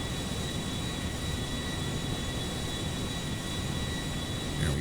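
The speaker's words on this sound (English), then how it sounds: "It's just a remarkable airplane." A Concorde airliner's jet engines in a GTA 5 mod, heard as a steady, loud, unbroken roar with a faint high whine, no voices.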